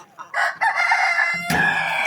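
Hens in a coop cluck and squawk in close, loud bursts, with a sharp crow-like call partway through and continuous bird noise throughout.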